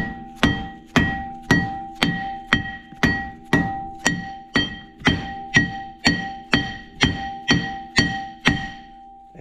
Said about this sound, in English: Then take you a hammer, hit it.